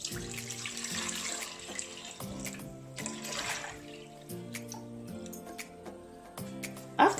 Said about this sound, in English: Water comes in right now.